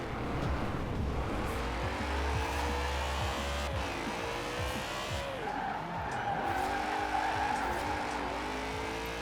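A BMW with a locked differential drifts in Forza Horizon 4, its engine droning steadily while tyres squeal and skid almost without a break, loud and close throughout, with no talking.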